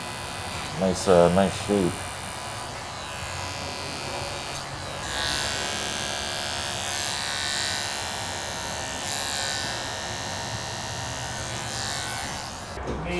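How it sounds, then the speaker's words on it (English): Electric hair clippers buzz steadily during clipper-over-comb work on a man's haircut, blending the sides into the top. The hum swells and fades as the blade passes, and a brief voice comes early on. "this is more clip over comb work to blend the sides in with the top"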